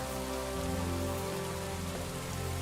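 Steady rain pouring down in the medieval world of Kingdom Come Deliverance 2, a dense continuous patter filling the scene evenly without pause.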